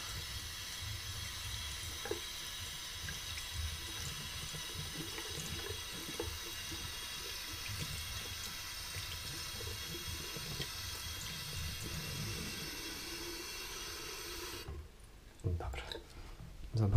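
Tap water runs steadily from a faucet into a sink while shaving soap is rinsed, a continuous close hiss that cuts off near the end, followed by brief handling noises.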